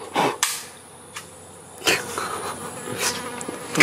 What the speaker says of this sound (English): Some kind of bee.